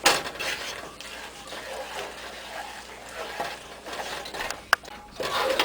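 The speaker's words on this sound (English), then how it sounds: "So I added the remaining milk and I'm stirring it." Milk being stirred in a pan for macaroni cheese, soft swishing and scraping with faint clinks of a utensil against the metal, quiet and close with one sharper knock near the end.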